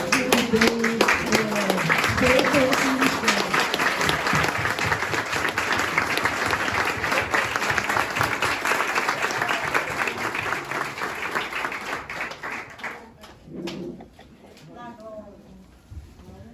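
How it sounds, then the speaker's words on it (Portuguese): A standing church audience applauds a couple, with loud, dense clapping and voices mixed in, sustained for several seconds before fading out near the end. "desse uma salva de palmas a esse casal"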